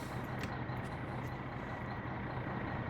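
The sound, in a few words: truck parking in the video game My Winter Car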